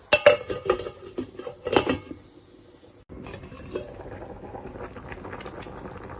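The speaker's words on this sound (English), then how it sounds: "So that's boiling now." Pots and utensils clatter loudly for a few seconds, then a steady bubbling, simmering wash of a covered pot of vegetable soup boiling continues with light clinks.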